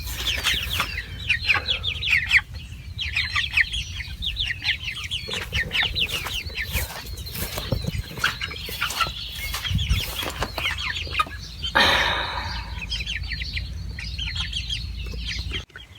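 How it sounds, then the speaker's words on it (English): A flock of meat chickens clucks and squawks continuously nearby, with a brief flurry of flapping wings partway through and no talking. "we moved our meat chickens over here."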